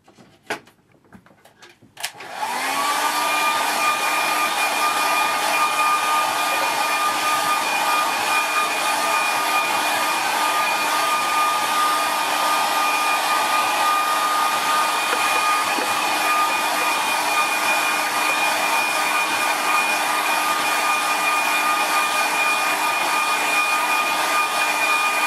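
A hair dryer blows on stretched watercolour paper, switching on after a brief clatter and then running as a loud, steady whine for the rest of the clip, alone without speech.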